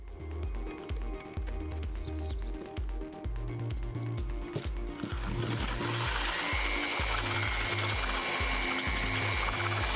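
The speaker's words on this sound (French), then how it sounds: "Les deux composants sont maintenant mélangés de manière régulière et homogène jusqu'à ce qu'une masse fluide soit formée" A drill-driven paddle whirs steadily while churning two-component paving joint grout mortar in a bucket, the motor growling close up with a rhythmic chugging.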